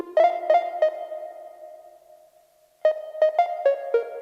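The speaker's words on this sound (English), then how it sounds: "this synth barely plays throughout the song, but when it does, it's very cool" An 80s-style synth plays in a hip-hop beat, its plucky chord stabs arriving in two short bursts of three to five hits. A long reverb tail rings between the bursts, and nothing else is heard.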